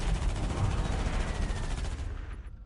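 Continuous gunfire and explosive battle noise from a Tau versus Space Marines fight in Dawn of War: Ultimate Apocalypse, a dense loud wash of shots that holds steady, then drops away abruptly at the end.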